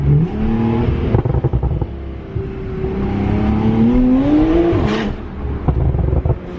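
A Nissan Skyline engine of about 600 hp revs and pulls hard, its pitch climbing steadily as it accelerates, then drops off sharply before building again, loud and close.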